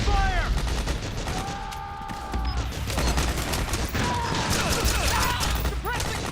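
Soldiers exchange dense gunfire in Metal Gear Solid 4: continuous automatic bursts, clattering mechanisms and ricochet whines, with shouted voices mixed through the din.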